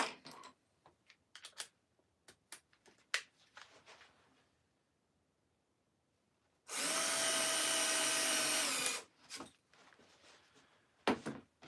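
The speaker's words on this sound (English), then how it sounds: "Drill the hole." A power drill bores a hole in wood in a custom woodworking shop, a single loud steady whir lasting about two seconds, set among quiet handling clicks and knocks.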